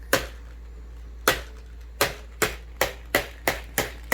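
A Secret Crush mini blind box gets smashed with a series of sharp, hard impacts, sparse at first and then quicker, each hit loud and close with a brief ringing tail and no talk.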